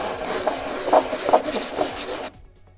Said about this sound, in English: I've just got a piece of coarse sandpaper. I think this is 80 grit.